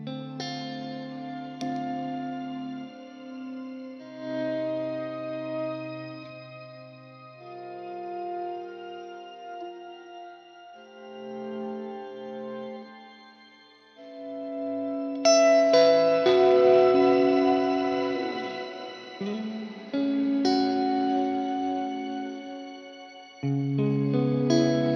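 A sustained guitar played through a shimmer reverb pedal, heavily effected, with lush, shimmering reverb tails and octave-like halos ringing out, swelling louder in the second half.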